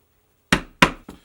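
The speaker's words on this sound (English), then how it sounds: "I'm going to take my stitching chisel and I'm going to hang 1 prong over this top here, and I'm just going to punch from the top down on both sides" A stitching chisel strikes down through leather three times in quick succession, each a sharp close knock, the last one lighter, in an otherwise quiet room.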